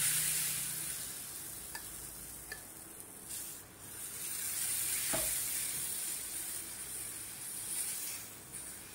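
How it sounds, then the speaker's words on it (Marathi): Paneer chilla batter sizzles steadily in oil on a hot pan, a continuous frying hiss with a few soft clicks and spatula touches, close and fairly quiet, no talking. "तर आता आपण याच्यात चिला टाकायला घेऊया।"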